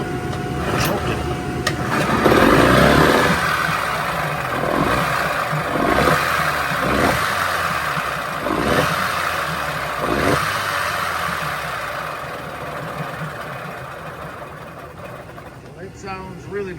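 A 1994 Evinrude 15hp outboard motor running rough after being choked, loud and close with a growling, uneven engine roar and pulsing beats, with someone talking over it.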